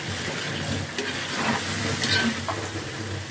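Nellore-style fish curry fries and sizzles steadily in a pan of oil, with occasional stirring scrapes breaking through a continuous close hiss.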